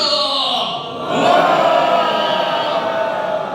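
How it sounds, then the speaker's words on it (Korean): A seminar audience in an Air Force hotel hall roars together in one sustained, loud shout of massed voices that swells briefly and keeps going for several seconds. "힘찬 함성을 5초간 함성 시작"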